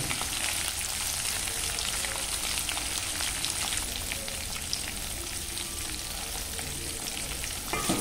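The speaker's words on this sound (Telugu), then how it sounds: "అన్నీ కాస్త రోస్ట్ చేసుకొని ఇలా మిక్స్ చేసుకోవాలి." Bitter gourd roasts in a pan with turmeric and coarse salt, giving a dense, even crackling sizzle with light stirring that continues steadily throughout. No one speaks.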